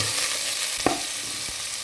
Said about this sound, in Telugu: వీటిని బాగా తిప్పండి ఆయిల్లో ట్రాన్స్పరెంట్గా వేగే వరకు.